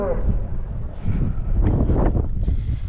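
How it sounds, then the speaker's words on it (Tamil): Strong wind at a rainy viewpoint by the sea buffets the microphone in a steady, loud low roar with gusty surges throughout. "காற்று செம்மையாக இருக்குது"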